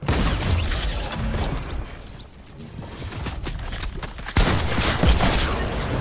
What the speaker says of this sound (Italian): Ma sparano da vicino.